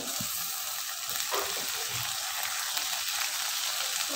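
Tomatoes frying in a pan for cooker sambar, a faint, continuous bright sizzle with a few soft stirring taps underneath, steady throughout.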